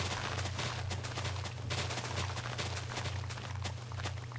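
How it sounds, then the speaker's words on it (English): Blocks breaking rapidly under shears in Minecraft's Crafting Dead modpack: a dense, continuous stream of quick cracking clicks over a steady low hum, loud and unbroken. "I just love that sound of how fast everything just breaks."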